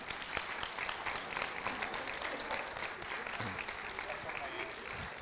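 Audience applause at a debate, a dense, steady patter of many hands clapping at moderate distance for about five seconds, fairly quiet overall.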